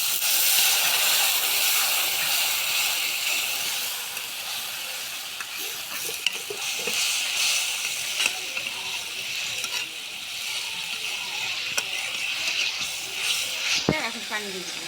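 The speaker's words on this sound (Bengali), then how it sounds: "এবার সামান্য একটু পানি দিয়ে মশলাটা আমরা ভালোভাবে কষে নিব।" A spice paste of chili powder and ground masala sizzles and hisses steadily in a pan with a little water as it is stirred and fried, the sound loud and continuous throughout.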